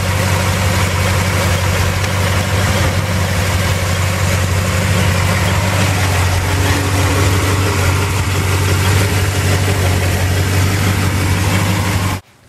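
A 1966 Ford Galaxie with a 390 FE big-block V8 and electronic ignition idles steadily up close, a loud continuous low rumble with even vibration throughout, cutting off abruptly at the end.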